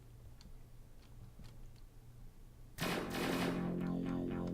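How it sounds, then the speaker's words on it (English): Enemy gunfire and explosions from a video game suddenly take over after a few seconds of quiet ticking. They form a loud, dense burst of rapid shots and blasts that carries on to the end. "You could hear the enemy shooting. This is me shooting, and there's explosions."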